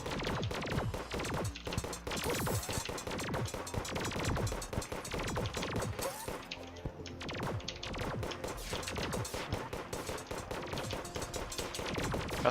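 Rapid, continuous gunfire fills the whole stretch as a shooter spins and fires at will, dense overlapping shots and impacts with crashes mixed in, loud and relentless with no pause.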